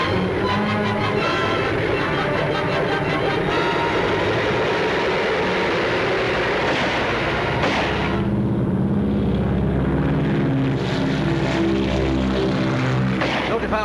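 A propeller plane's engine drones steadily and loudly, rising as it takes off, with voices faintly underneath.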